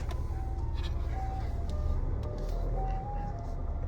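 A faint electronic beeping melody of a car reversing alarm, repeating over a constant low engine rumble.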